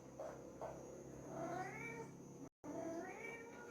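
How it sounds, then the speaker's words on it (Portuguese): Nearby, a cat meows several times in drawn-out, wavering calls, with short pauses between them and a brief silent gap partway through, over a low room hum. "Esse gato é chato, hein, velho?"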